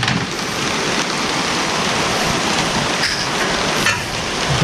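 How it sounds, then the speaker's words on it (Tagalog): Steady rain hisses and patters continuously across the whole stretch at an outdoor building site, dense and fairly loud, with no voices. "Tapos ngayon eto, umulan na naman."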